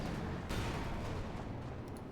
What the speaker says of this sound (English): Nice hit from the cannon from the Panther 4.